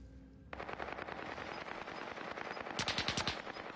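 Gunfire in an online multiplayer shooter game: after a brief quiet start, rapid continuous shots crackle in a dense burst that grows louder and sharper toward the end, with no talking.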